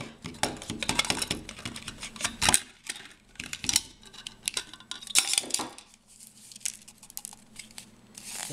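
Cutting open the plastic case of a cheap 6V battery, with a rapid run of close, sharp cracking and snipping clicks, dense in the first half and then thinning into scattered, quieter cuts and scrapes.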